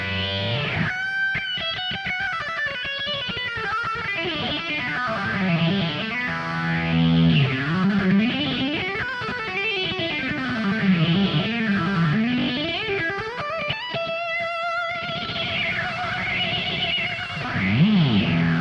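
Electric guitar through a high-gain distortion pedal, the kind used for a solo in a pop song, playing a sustained, bending melodic line with swooping vibrato-like pitch swings, loud and continuous with effects and reverb.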